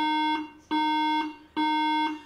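An old iMac sounds RAM-fault error beeps, loud sustained electronic tones in a steady on-off pattern with short gaps, alone and close.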